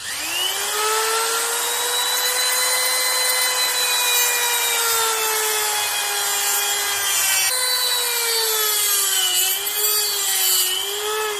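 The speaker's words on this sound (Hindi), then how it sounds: "अब हम ये राउंड कटर का यूज करके जो स्विच का स्क्वायर कट आउट है वो कट करेंगे।" A round cutter, used in making a kansa massage machine, cuts a square switch opening with a steady, loud, high-pitched whine whose pitch drifts and dips slightly. It runs continuously with no talking.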